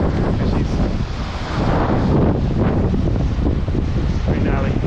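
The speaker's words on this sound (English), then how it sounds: "I don't know if you'll hear me over the wind in the river" Strong wind buffets the microphone outdoors beside a rushing river on a scree slope, giving a loud, continuous roar with gusty swells throughout.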